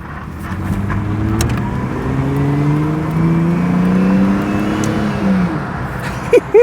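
A Ford car engine revs up steadily through the gears, the deep exhaust rumble rising in pitch and growing louder, close to the microphone.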